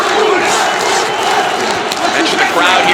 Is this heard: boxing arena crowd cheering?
yes